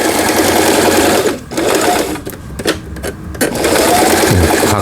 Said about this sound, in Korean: 각종 기능들 정상적으로 박음질되는 리카 재봉틀 전체 수리를 마치고 박음질을 하는 영상이었습니다